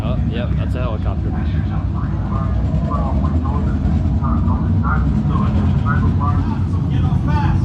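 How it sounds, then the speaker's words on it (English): A helicopter sound effect plays inside a Marine Corps museum exhibit of a combat scene, a loud, steady low engine and rotor rumble that continues throughout under narration and voices. "Oh, yep, that's a helicopter."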